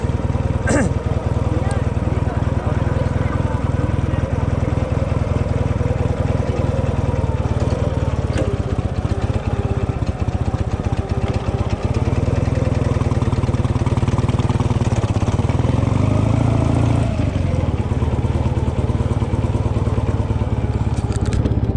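Engine of a ridden vehicle running steadily and loud throughout, a continuous low drone close to the rider with faint wind noise over it and no clear talk.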